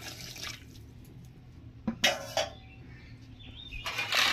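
Water splashes into a cooking pot of Bengali potol (pointed gourd) curry in a few short, close pours and gurgles, separated by quieter gaps with light clinks.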